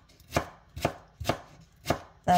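A knife thinly slices watermelon rind on a board, five even, crisp chopping strokes about half a second apart, close and clear with no talking.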